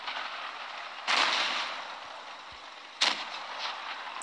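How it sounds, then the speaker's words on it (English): Tank gun shots in World of Tanks Blitz, two loud sharp blasts about two seconds apart, each with a short fading rumble, over steady background noise and no talking. "Gun shot."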